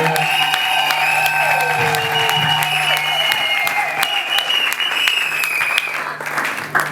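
A church congregation at a special celebration marking a pastor's ten years of ministry breaks into loud, sustained applause, dense clapping filling the room with a steady hum beneath before it thins toward the end.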